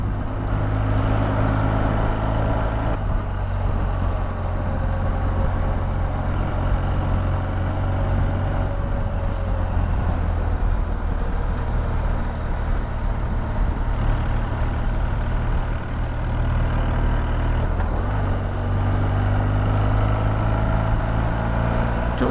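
A vehicle engine drones steadily and loudly while driving, held in a gear that is too high, a low constant rumble with little change apart from a brief dip partway through.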